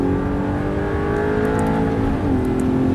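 An Audi R8 V8 engine revs loudly and continuously, pitch climbing steadily as it accelerates, then dipping briefly at a gear change before rising again.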